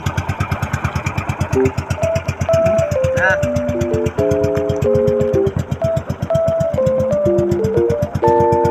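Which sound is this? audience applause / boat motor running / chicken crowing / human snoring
boat motor running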